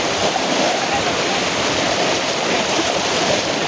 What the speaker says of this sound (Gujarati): હલાતોય નથી એટલું પાણી ખેંચે મિત્રો